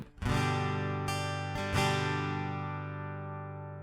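Strummed acoustic guitar chords picked with a thin pick, played through a direct preamp, clean: a bright initial strum, two quick restrikes, then a long ringing decay.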